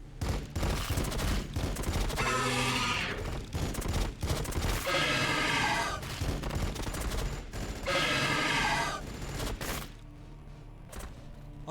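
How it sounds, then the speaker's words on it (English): Sustained gunfire from a Warhammer 40,000 Battlesector battle, with dense volleys of rapid shots swelling in bursts around steady background fire, loud and continuous throughout with no talking. "Firing on the enemy."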